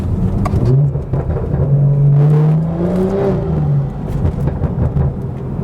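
A BMW B58 engine fitted with a BMS intake pipe revs up and falls back, a loud close rising and falling drone with rough rasp and crackling at the edges, with no voices.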